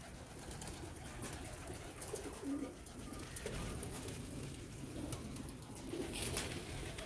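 A Salara teddy pigeon, kept in Gujarat, gives soft, low coos at intervals over a quiet, noisy background.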